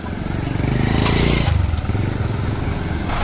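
Two Sonalika tractors, a DI 35 in first gear high and an MM 39 in fourth gear low, run together with a loud, steady diesel chug that rises briefly and holds throughout, close by.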